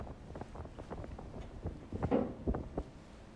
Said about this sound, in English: hear the sound of waves melting with the gust